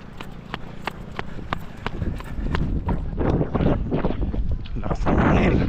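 Strong wind buffets the microphone at a coastal port in Claver, Surigao del Norte, a steady low roar that swells louder toward the end, with rhythmic footsteps of someone running at the start.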